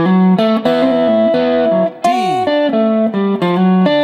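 Electric guitar plays line two of a spicy major blues lick set, a continuous run of sustained, slightly distorted single notes with a bend near the middle, loud and close with no talking.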